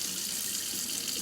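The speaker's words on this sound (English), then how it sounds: "run my water hot" Hot water runs steadily from a sink faucet, a continuous loud hiss and splash with no pauses.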